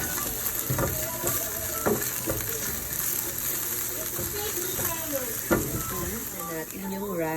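Ingredients for chicken chow fun sauté in a hot pan with a steady close sizzle and occasional spatula scrapes and clanks, while a person talks over the cooking.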